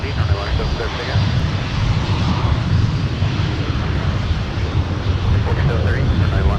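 A Delta airliner takes off from runway 17 at MSP airport, its engines a loud, sustained rumbling roar throughout, with a voice faintly audible beneath it.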